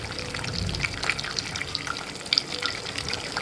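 Water boiling hard in a cooking pot gives a steady crackling, sputtering hiss with scattered sharp pops, close and continuous throughout with no talk.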